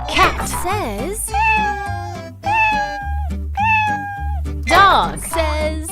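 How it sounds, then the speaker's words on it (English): A cartoon cat meows several times in a row, upward-bending mews over a steady, bouncy children's music backing. "Cat says."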